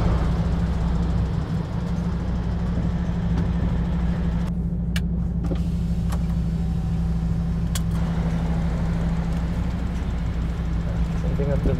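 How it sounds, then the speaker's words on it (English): Large goods vehicle reversing into a parking space, a constant heavy diesel engine drone with a low steady hum that runs the whole time. A few faint clicks and knocks are heard, and voices talk over it. "Back it into its parking space, Tom."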